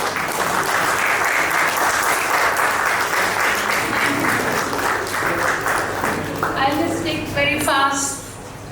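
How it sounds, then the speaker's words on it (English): Audience applause at the Hyderabad Literary Fest 2023, a dense steady clapping that fills the room for several seconds, then thins as a voice begins speaking at the end. "A big round of applause."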